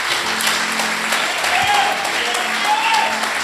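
Church congregation applauding during a sermon, a dense continuous wash of clapping with faint voices and tonal sounds mixed in underneath.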